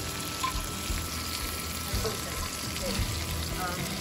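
Steak searing in a hot pan with melted butter, a steady broad sizzle and frying hiss with faint stirring scrapes throughout, close and continuous with no talk.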